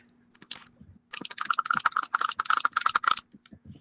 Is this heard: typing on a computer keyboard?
yes